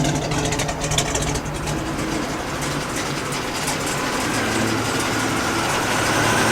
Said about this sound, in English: so you can hear how quiet the engine is